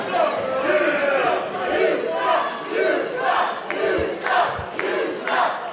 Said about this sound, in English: the crowd here in the Norfolk Masonic Temple, which continues to file in